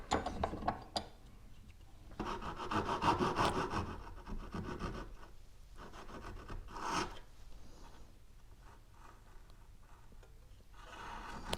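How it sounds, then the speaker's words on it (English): A piece is cut out of a wooden fence board with steady rasping saw strokes. The sound is fairly quiet and close, with a few sharp knocks at the start and uneven pauses between bursts of cutting. "So now I'm going to carefully cut down and remove this piece."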